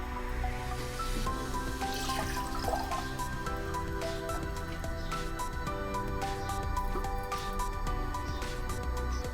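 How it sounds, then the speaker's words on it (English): Water heating in a glass beaker on wire gauze over a Bunsen burner, giving a faint, continuous bubbling and ticking with small dripping pops, quiet and steady. "This is boiling, this is getting heated."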